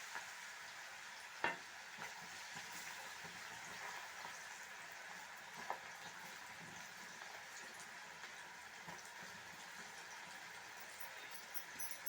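Onion pakoda frying in hot oil gives a steady, soft sizzle with faint bubbling throughout, and a couple of brief clinks stand out above it.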